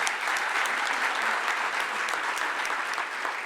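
Audience applause at an awards ceremony, dense steady clapping from a crowd that holds evenly for several seconds.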